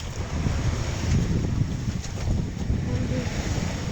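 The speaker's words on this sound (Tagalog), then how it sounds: "Ang lakas ng hangin, ang lakas ng alon." Strong wind buffets the microphone aboard a boat on choppy sea, with steady broadband roar and low rumbling from waves slapping the hull, continuous and fairly loud throughout.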